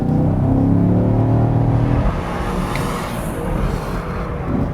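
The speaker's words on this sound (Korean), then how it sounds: "차가 달려나갈 때의 느낌, 사운드에서도 알 수 있지만 상당히 그 우악스러운 그런 힘이 잘 느껴집니다" A 2018 Chevrolet Camaro SS sports car with a V8 engine accelerates hard in sport mode. Its loud, rumbling roar climbs in pitch, then drops to a steady, lower drone, heard from close by with no talk.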